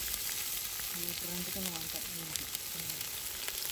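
Ginger paste frying in a pan over an outdoor wood fire in a jungle setting, giving a steady close hiss and crackle throughout, with a few short tonal clinks or voice-like tones in the middle.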